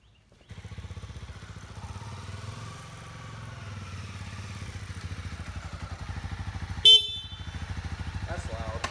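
A 2020 Honda CB300R motorcycle idles up close with an even, rapid engine pulse that grows slightly louder, broken near the end by one sharp clack.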